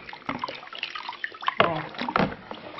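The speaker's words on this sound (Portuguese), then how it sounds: "E eu vou estar enxaguando aqui para vocês verem. Ó, mergulhando aqui nessa aguinha." A dish washed with homemade liquid detergent is dipped and rinsed in a basin of water, giving soft sloshing and splashing with small drips, quiet and close, a little louder midway.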